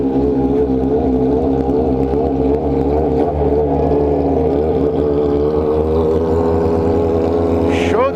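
A Yamaha XJ motorcycle engine runs loud and close, a steady rumbling idle with slight wavering revs that rises toward a quick higher rev near the end.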